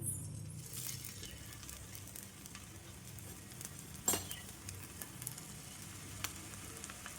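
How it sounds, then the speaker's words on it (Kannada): Wheat dough with okra cooking on a hot tawa over a low flame, giving a faint, steady sizzle throughout with one brief metallic clink near the middle. "ತವ ಮೇಲೆ ಹಾಕೋಣ."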